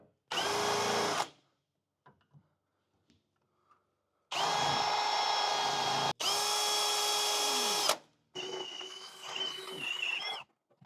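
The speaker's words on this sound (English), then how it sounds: "take your drill and just spot these 3 spots in the frame right here" A power drill spots holes in a 1999-2006 Silverado/GMC truck frame during a 4-link suspension install. Several bursts of loud, close whining run one to two seconds each, with short quiet gaps and faint clicks between them.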